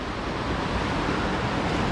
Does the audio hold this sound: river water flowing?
yes